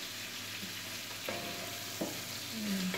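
Garlic frying in butter in a pan, a steady crackling sizzle with a few sharp scrapes and clinks of stirring, close and fairly loud, no talking.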